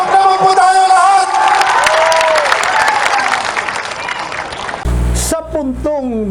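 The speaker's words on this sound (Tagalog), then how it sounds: "Palakpak naman po tayo lahat!" Audience applause with cheering from a crowd at a Filipino political talk or gathering, a dense wash of clapping that runs steadily under a speaking voice before cutting off into a brief burst of other sound.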